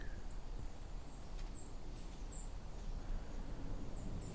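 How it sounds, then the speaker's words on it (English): White-throated sparrows give thin, high seep calls during autumn migration, several brief notes scattered across a few seconds, faint and distant over a rumbling outdoor background. "So most of those seep sounds are white-throated sparrows."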